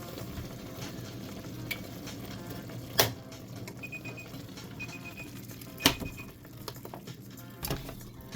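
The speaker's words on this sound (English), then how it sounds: "now here I am cooking noodles" Baixiang seafood flavor instant noodles cooking in a pan: a steady soft sizzle and bubbling bed with occasional sharp clicks and utensil taps, close and unvoiced.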